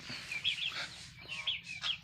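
Young turkey poults in a small flock give repeated high, chirping peeps and soft clucks, fairly faint and close, in quick irregular bursts.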